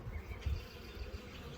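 A steady, low swarm hum of honey bees, pollen-laden workers crowding over the top of an opened hive in early March, droning continuously and fairly close.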